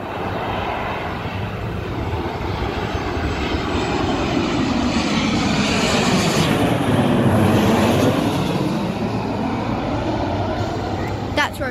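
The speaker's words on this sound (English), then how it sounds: "Sorry if you guys can hear engine noises, it is just very packed here today." Jet engines roar steadily and loudly at a busy airport at night, with a Qantas Boeing 737-838 passing close; the pitch sweeps down and back up as it goes by, and a voice talks faintly underneath.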